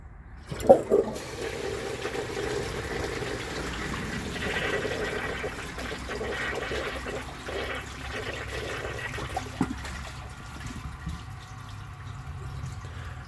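A 1994 Eljer toilet flushes with a dish towel in the bowl, giving a loud rushing surge at the start that settles into a long steady gurgle and refill hiss, close by with no talk.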